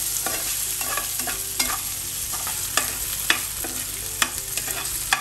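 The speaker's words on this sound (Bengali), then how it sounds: "ডাটা আলুকেও ভালো মতো করে আমি তেলের সাথে ভেজে নিলাম" Vegetable stems and potato pieces stir-fry in hot oil with onion and garlic, giving a loud, steady sizzle. A spatula scrapes and clacks against the pan in irregular strokes.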